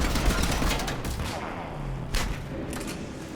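A Revenant machine gun loaded with warp ammo fires in Mass Effect 3, a loud, dense stream of rapid gunfire that rattles on for the whole short stretch.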